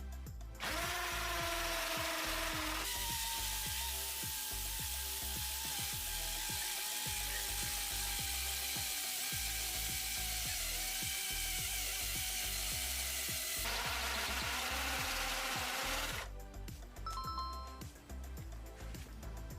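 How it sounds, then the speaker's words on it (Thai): Osuka cordless drill bores into concrete with a 13 mm bit in hammer mode at speed setting 2, a loud continuous grinding, rattling whine that starts and stops sharply, with a brief lower-pitched run before and after. "ต่อไปทดสอบเจาะปูนด้วยดอกขนาด 13 มิลจับเวลา"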